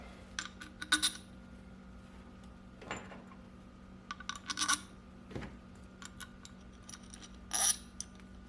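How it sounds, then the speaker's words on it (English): Allen screws are driven with an Allen T-wrench into a Bostitch SB1850BN 18-gauge brad nailer, making faint, scattered metallic clicks and taps against a quiet background hum. "Now we take our Allen screws and we screw it back together."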